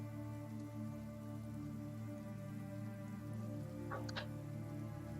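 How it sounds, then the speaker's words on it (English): Steady rain patters continuously on a surface, an even wash of drops with a couple of brief brighter clicks near the end, set under a constant low hum for a tabletop role-playing scene. "you guys have been walking through the rain and getting soaked and wet and uncomfortable again"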